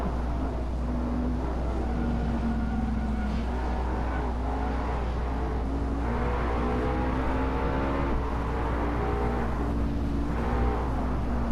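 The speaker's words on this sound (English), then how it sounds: "This car is loud!" A loud toy-car engine roars in a Hot Wheels Unleashed video game race, a continuous droning hum with shifting revs and pitch swells, steady and close, running alone without talk.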